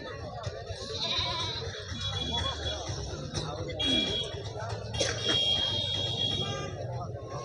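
Goats and sheep bleat amid a crowded sheep and goat market in Magadi, with calls rising over constant chatter and voices of many people nearby.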